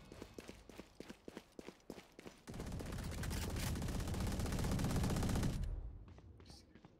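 Rapid gunfire from a video game shooter: a run of separate close shots, then a long sustained automatic burst that stops abruptly, leaving faint scattered sounds.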